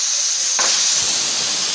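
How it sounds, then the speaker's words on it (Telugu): A pressure cooker whistle releasing steam while chow chow (chayote) halva cooks on high flame: a steady, loud, close hiss that swells a little partway through and keeps going. "ఎంచక్క 1 విజిల్ వచ్చేసింది కాబట్టి మనం గ్యాస్ కట్టేసుకోవచ్చు అనమాట."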